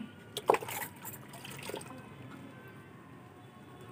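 Water is poured onto an adenium plant in a pot, a few close splashes and drips up front followed by a soft trickle that fades away.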